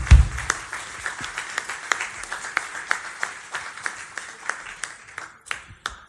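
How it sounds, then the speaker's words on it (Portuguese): A small audience at a live broadcast show applauds a painter, sparse individual claps ringing out clearly and fairly close, thinning toward the end with a few isolated final claps. "Uma salva de palmas"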